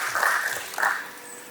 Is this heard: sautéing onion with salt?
no